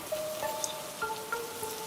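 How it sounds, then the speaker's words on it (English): Steady rain falls in a humid Asian jungle, a soft continuous hiss of drops with faint tonal insect or bird calls threading through, no voices. "Downpours can occur here at any time"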